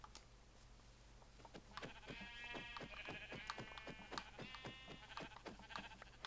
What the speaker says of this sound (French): Voilà, un mouton.